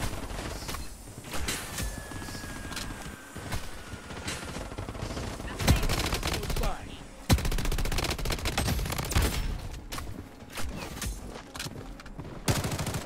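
Bursts of rapid gunfire in the shooter game BloodStrike, loud and close, with sharp single cracks and fast rattling volleys over a busy background.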